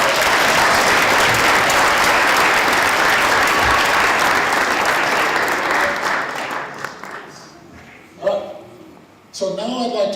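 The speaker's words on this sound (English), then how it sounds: "Please give me one more round of applause." Sustained, dense audience applause fills a school board of education business meeting, loud and steady for about six seconds before tapering off into scattered claps and a few brief voices.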